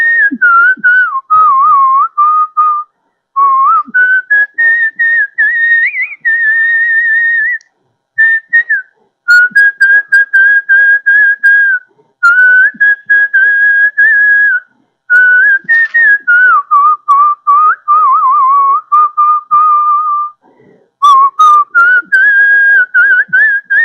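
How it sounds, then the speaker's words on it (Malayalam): A 68-year-old man whistles old and new Malayalam, Tamil and Hindi songs, a loud, clear, close melodic whistle in phrases broken by short pauses, with no talk. "മലയാളം, തമിഴ്, ഹിന്ദി ഭാഷകളിൽ പഴയതും പുതിയതുമായ ഗാനങ്ങൾ അനായാസം ചൂളമടിച്ച് പാടാൻ"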